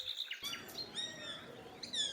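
Forest birds chirping, several quick high tweets and sweeping whistled calls overlapping at moderate distance, faint ambient hiss beneath.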